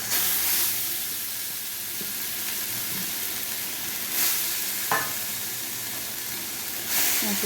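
Chhana mashed with sugar cooks in a kadai over a low flame, giving a soft, steady sizzle and hiss with a few light scrapes of a ladle, fairly quiet and close.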